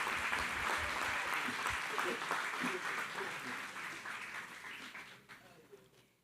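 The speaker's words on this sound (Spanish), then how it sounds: "Un aplauso para todos estos espías malucos." Congregation applauding at a church service, a broad wash of clapping with some voices mixed in, starting full and slowly dying away over six seconds.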